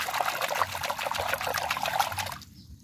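Running water trickles and splashes over plastic toy animals being washed, a close, steady pouring stream with soft dribbling that stops abruptly near the end.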